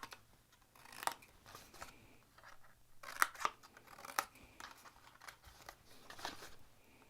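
Scissors snip through paper for a double expanding craft box, making a string of soft, close cuts at an irregular pace, with nobody talking.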